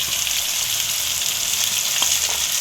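Green beans frying in hot oil for a broken wheat bisibele bath make a dense, continuous sizzle and crackle, close and fairly loud, with a light stirring scrape near the end.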